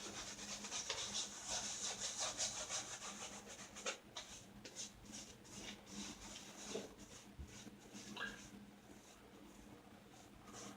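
Electric clippers or a razor shaving a head for the first time, a steady buzzing rasp worked back and forth across the scalp with short scraping passes, close and continuous throughout with no talk.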